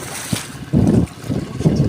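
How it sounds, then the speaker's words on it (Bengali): Strong wind buffets the microphone on a river with choppy waves while a small fishing boat passes in rain, producing rough, gusty low rumbles that swell and fade without talk. "ছোট্ট একটা নৌকা যাচ্ছে, অনেক সুন্দর, ঢেউ হচ্ছে, প্রচণ্ড বাতাস"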